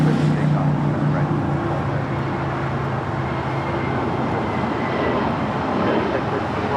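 An American Airlines plane taking off from runway 25 right at LAX, heard as a loud, sustained engine roar with a low droning hum that eases slightly as it continues, and a radio voice intermittently over it.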